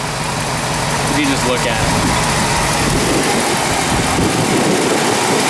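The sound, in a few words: 1956 Ford Victoria 390 four-barrel engine running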